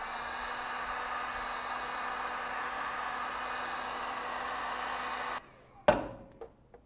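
A heat gun blows a steady, even hiss of hot air onto a plastic spoiler cover for a C7 Corvette ZR1 ZTK high wing. It runs continuously for about five seconds, then cuts off, followed by a few sharp plastic knocks and taps.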